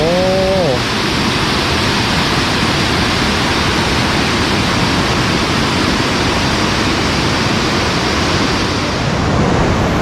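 Tad Sae waterfall near Luang Prabang, Laos, roaring as a loud, steady rush of falling water, with someone speaking briefly at the very start.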